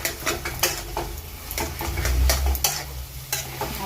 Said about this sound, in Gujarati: થોડુંક ટોપરું પણ એડ કરી દઈશું બધું મિક્સ કરી લેશું આ રીતે